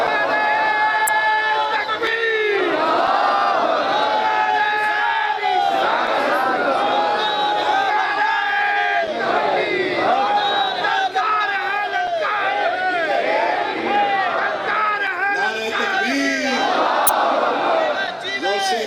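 A large crowd roars and shouts together in a loud, continuous wave of massed voices at a religious gathering, the chant of Nara-e-Takbeer rising in dense overlapping bursts throughout.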